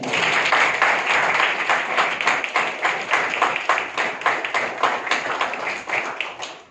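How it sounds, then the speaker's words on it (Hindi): A live audience at a selection event for successful SBI Assistant 2020 candidates breaks into steady applause, dense hand claps with a rhythmic, pulsing beat that holds loud for several seconds before tapering off. "जोरदार तालियां"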